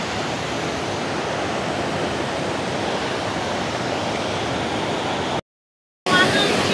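Athirappilly waterfall in Kerala pours down from above in a dense, loud, unbroken roar, with a brief cut to silence near the end before the rushing resumes.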